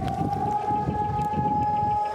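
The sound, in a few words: civil defense siren sounding nationwide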